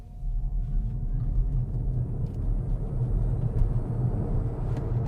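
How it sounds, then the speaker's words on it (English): An Xpeng G6 Long Range electric car launching hard from a standstill in launch mode, a low, continuous rumble of road and motor noise with a faint rising whine, heard from inside the cabin. "So I'll come to a complete stop here and put the car into launch mode"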